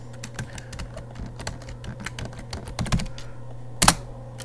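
Rapid, uneven clicking of keys on a computer keyboard, close up, with a louder burst of clacks near the end.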